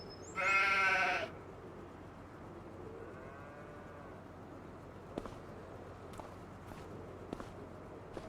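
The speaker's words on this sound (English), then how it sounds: "So some of the old sheep are in this shed." In Farming Simulator 25, one loud sheep bleat rings out near the start in a shed, followed by quiet shuffling and a few faint knocks in the enclosed space.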